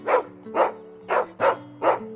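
Dog from the Final Fantasy XVI video game giving five short, evenly spaced whimpering yelps in a steady rhythm over a low game soundtrack hum, fairly close and clear with no talking.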